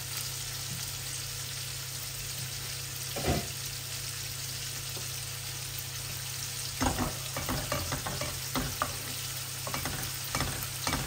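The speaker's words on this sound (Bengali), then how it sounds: "মাছটা ভাজা।" Hilsa fish fries in a pan with a steady, close sizzle, broken by occasional clattering stirs and scrapes, and no talking.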